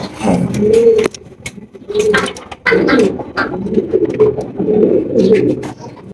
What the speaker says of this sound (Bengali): এখানে রয়েছে একজোড়া হলুদ লাহোরি কবুতর